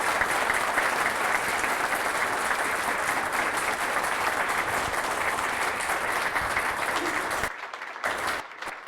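Audience applause for a newly introduced bishop elect at a church conference, sustained, dense clapping filling the room for over seven seconds, then tapering into scattered claps.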